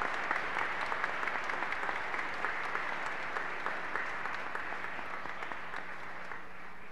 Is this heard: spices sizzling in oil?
no